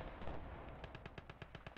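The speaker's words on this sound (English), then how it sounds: "it's literally trying to nail my AA gun the entire time. Yeah, it's just pumping rounds out" Rapid automatic gunfire from a tank in the WWII game Gates of Hell: Ostfront, a steady run of sharp evenly spaced bursts over a dense rumbling battlefield din, with no one talking.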